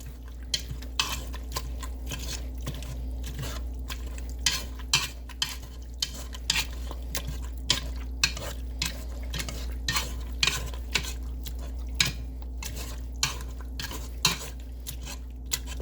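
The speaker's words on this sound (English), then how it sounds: "now we're going to mash the snot out of it with that special tater masher" A potato masher works through boiled potatoes with added cream in a pot, giving repeated soft squelching thumps and metallic clinks in a steady rhythm over a constant low hum, close and moderate, with no talking.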